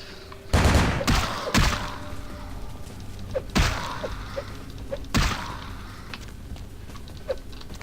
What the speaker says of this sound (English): So Steyr Augs really do some damage. Those assault rifles.